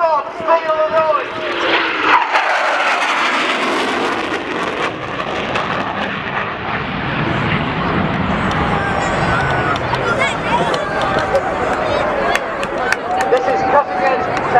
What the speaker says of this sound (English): I give you the Royal Air Force 29 Squadron Typhoon.